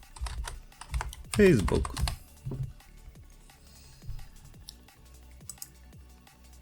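Computer keyboard typing while setting up a WordPress site footer: a run of light, irregular key clicks continues through the clip, with a brief spoken word near the start.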